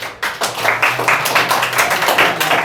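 A classroom of students claps for the day's winner in a maths class, a close burst of quick, uneven hand claps lasting a couple of seconds.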